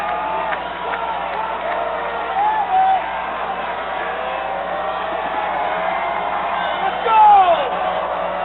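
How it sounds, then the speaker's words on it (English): A capacity crowd at a 1993 Class A state championship high school football game roars in the stands, a broad continuous din with a couple of louder swells and distant shouts over a commentator's voice. "A capacity crowd on hand here to witness this 1993 state championship game"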